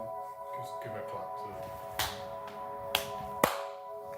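Sharp, crisp hand claps ring out one at a time, three in quick succession near the end, each a clean snap over a quiet room with a faint steady hum.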